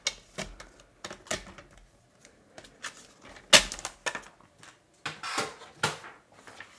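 A paper trimmer cuts card stock with a series of short clicks and scraping slides, uneven bursts separated by brief pauses, close by and fairly quiet.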